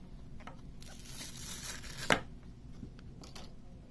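Factory earpad pried up with a spudger and peeled off a pair of headphones: a close, soft tearing and crinkling rasp building over a second or so, ending in one sharp ripping snap, then quieter scuffs.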